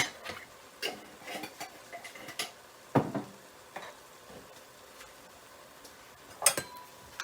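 A spoon stirs curry lobster with blended scallion, onion and pepper seasoning in a pot, giving scattered light clinks and scrapes against the metal at an irregular pace, fairly faint and with no talking.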